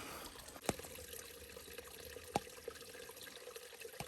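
A small woodland stream trickles steadily and softly nearby, a gentle continuous flow with a few faint knocks and splashes scattered through it.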